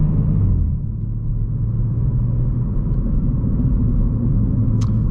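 Cabin drone of a BMW M3 fitted with an IRL midpipe and AA downpipes, heard from inside while driving: a loud, constant low exhaust rumble that holds steady throughout, with no talking.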